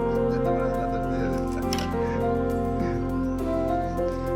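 Chickens cluck in a rural setting in the Sierra de Zongolica, Veracruz, their calls sitting over a loud, dense layer of sustained tonal sound.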